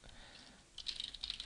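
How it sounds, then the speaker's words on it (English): Rapid keystrokes on a computer keyboard entering login details, a quick clatter of close, faint taps that thickens toward the end, with no speech. "I'm going to type them in and press the login button"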